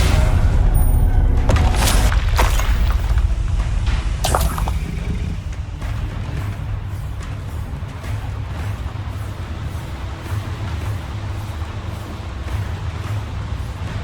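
Booming spell blasts from Confringo and Incendio in Hogwarts Legacy burst loudly in the first few seconds, then leave a low, rumbling roar.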